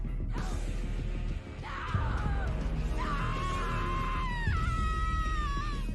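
A woman from The Boys screams in despair, a long, loud, wavering cry that rises and breaks into several drawn-out wails over a dense, rumbling dramatic background.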